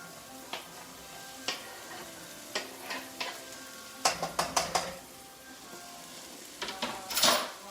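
Diced baby potatoes are tipped into a frying mixture of garlic, onion and seasoning and stirred, producing a soft background sizzle with irregular sharp clinks and scrapes of a utensil against the pan, a cluster near the middle.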